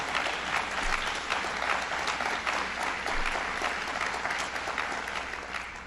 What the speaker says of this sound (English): let's give Kelly Kline a round of applause